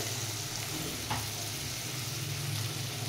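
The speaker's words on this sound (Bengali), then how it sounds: "নেড়ে চেড়ে এটাকে ভেজে নেব" Food sizzles and crackles steadily in a hot pan during home cooking of a rice dish, with a soft stirring scrape near the middle, close and continuous with no talking.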